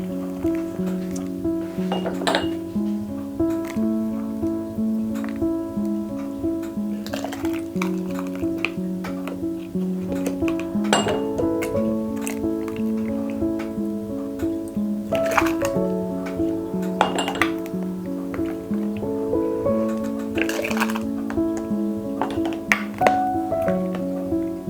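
Half-pint glass jelly jars clink and chime as canning ingredients are spooned and ladled in, with repeated bright knocks and ringing tones over a steady background of sustained hum.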